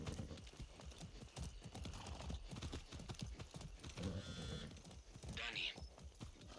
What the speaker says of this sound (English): I'm gonna use a horse.